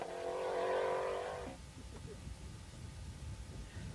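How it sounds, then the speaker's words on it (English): A Group N rally car climbs a mountain stage of the 1995 Cork 20 rally in West Cork, its engine droning loudly at first and then dropping away into a rougher, quieter rumble of road and wind noise. "We now head up the mountains towards Mill Street in one of the leading Group N contenders, driven by Stephen Roach"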